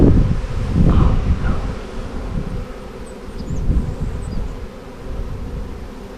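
Honeybee swarm buzzing outdoors in North Bellingham, Washington, a steady droning hum close to the microphone with wind gusts and rustling mixed in.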